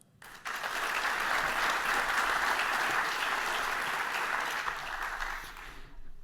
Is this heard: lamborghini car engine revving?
no